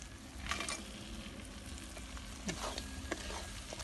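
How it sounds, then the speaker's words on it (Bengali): Fried crabs stir-fried in a thick meat masala in a pan, with a steady low sizzle and intermittent scraping stirs of a spatula, heard close and alone. "কাঁকড়াগুলোকে দিয়ে আরও একটু ভালো করে কষিয়ে নেব"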